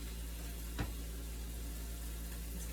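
Potatoes fry in oil with garlic salt, giving a steady close hiss and sizzle with a brief scrape or pop near the start and no voices over it.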